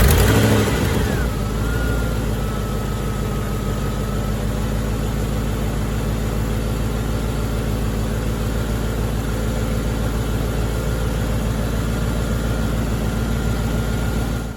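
An old high-mileage pickup truck engine runs at a steady idle after a brief rev at the start, loud and close, with a rough exhaust note from a passenger-side exhaust leak and a suspected bad catalytic converter.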